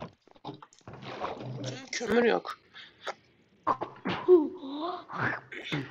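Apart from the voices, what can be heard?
sneeze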